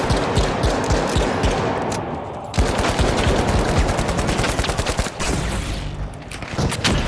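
Rapid automatic gunfire from a video game, loud and continuous with dense bursts of shots, a brief lull near the middle before the firing resumes at full intensity.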